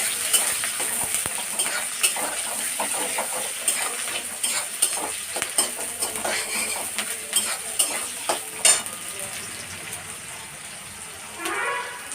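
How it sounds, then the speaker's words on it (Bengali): Chopped onion fries in a hot tempering of spices for a winter spinach and prawn ghonto, sizzling steadily while a utensil stirs and scrapes the pan in repeated close strokes. "তারপর ভালো করে নাড়বো।"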